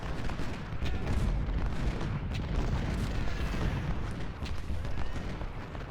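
Civil War cannon fire in a strategy game battle, a dense continuous rumble of booming artillery volleys with scattered sharper reports, loud and unbroken throughout.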